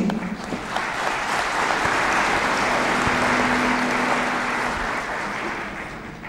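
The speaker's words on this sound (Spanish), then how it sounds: "Recibamos con un fuerte aplauso al último expositor de esta noche, Wim Dirksen." An audience at an evening lecture forum on the world economic crisis applauds warmly to welcome the final speaker, a dense, steady wash of clapping that holds for several seconds before tapering slightly.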